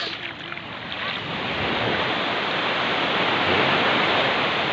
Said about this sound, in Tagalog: Ito yung dagat na hindi pa halos na-discover ng mga tao